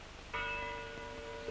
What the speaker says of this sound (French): Elles annoncent la nativité.